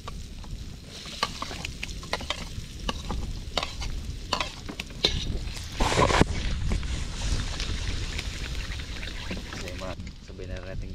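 Garlic fries in oil in a pan while a utensil stirs and scrapes it repeatedly, busy crackling sizzle with irregular clanks and a louder burst midway, as people talk in the background.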